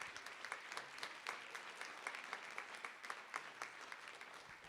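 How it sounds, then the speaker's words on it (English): Quiet, scattered clapping from a small group at a board of education meeting, applauding artists with uneven rhythm, distant and faint with no speech. "round of applause for these wonderful artists"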